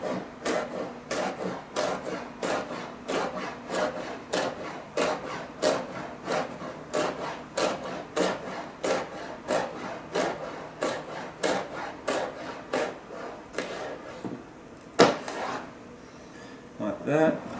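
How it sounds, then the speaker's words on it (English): A knife slices red capsicum into strips on a cutting board, giving a steady run of crisp, evenly spaced chopping strokes, close and fairly quiet, with a slightly louder cut near the end. "So now what I do is just cut them into strips."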